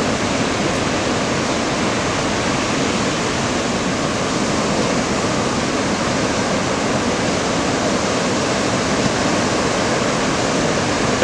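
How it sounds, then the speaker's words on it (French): Constant roar of ocean surf breaking at Anglet beach, a dense, steady wash of noise with no pauses, loud and unbroken, no voices over it. "dans le lot, si vous êtes bien placé, il y a des vagues sympas à choper"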